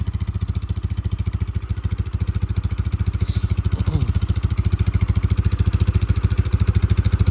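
A 2004 Polaris Sportsman 400 ATV idles cold on full choke, its engine chugging in a steady, even rhythm with a metallic clatter, close and fairly loud throughout with no talk.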